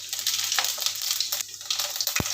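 Mustard seeds, fenugreek and cumin sizzling and crackling in hot oil, a steady close frying hiss with scattered pops and a sharp low thump near the end.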